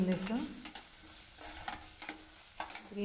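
Green chillies are stir-fried in a pan for samosa chaat, giving soft frying sizzle under repeated spoon scrapes and clinks against the pan.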